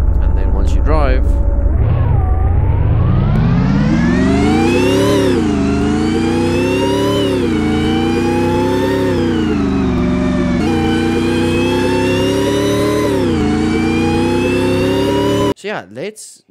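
A Roblox police car engine sound revs up repeatedly in loud rising sweeps, dropping back between pulls, then cuts off suddenly at the end.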